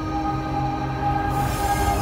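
A train passes in Vizag with a loud, steady rumble of wagons and a faint squeal of wheels on rail, continuing throughout without any talking.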